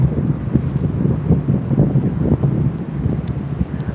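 Wind buffets the microphone while someone rides an electric unicycle outdoors, making a continuous low, gusty rumble that pulses in loud bursts throughout, with no voices.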